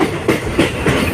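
A train runs through New Farakka Junction in West Bengal, with steady rolling rumble and periodic louder clatter bursts roughly every third of a second, close and continuous, no talk.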